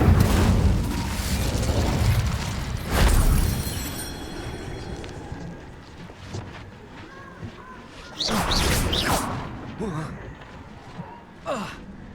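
Spell-casting effects from the Hogwarts Legacy video game, with loud whooshing bursts and booms at the start, around three seconds and again near eight to nine seconds, mixed with game ambience and vocal effort sounds.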